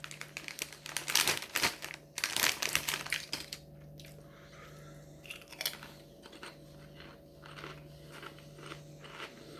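Someone bites into and chews crisps from a packet, with loud, close, rapid crunches that later settle into quieter chewing and faint rustling.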